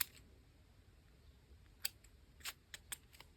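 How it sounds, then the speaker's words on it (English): Scissors snip paper for a grungy calendar journal in a few quiet, crisp cuts scattered over near-silence, close and faint. "Let's snip a couple of these."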